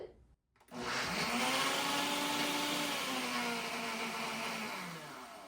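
A blender roars to life after a brief click and runs at a steady, loud, whirring pitch pureeing blueberries, easing slightly toward the end.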